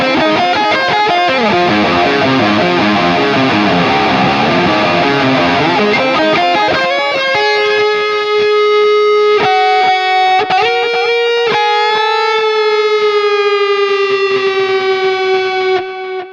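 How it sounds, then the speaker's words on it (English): An electric guitar runs through the tape echo effect of a NUX MG-300 multi-effects unit, first as a dense, fast run of notes with repeats smearing together, then as sustained chords and single notes trailing rhythmic echoes. "Let's go with the tape echo here."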